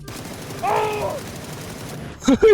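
Gunfire from a sprayed weapon in PUBG: a short burst of two or three loud shots near the end, preceded by quieter in-game noise and a brief tonal alert sound.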